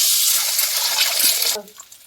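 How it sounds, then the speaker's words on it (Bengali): An egg fries in hot mustard oil in a wok, giving a loud, close, broad sizzling hiss that cuts off abruptly to quiet crackles near the end. "ডিম ভাজার জন্য দিয়ে দিচ্ছি কড়াইতে সর্ষে তেল"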